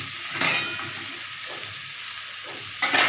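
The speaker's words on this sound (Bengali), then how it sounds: "ভেজে নিচ্ছি।" Tangra fish fry in a pan with a steady, close sizzle, broken by two brief bursts of scraping and stirring near the start and at the end.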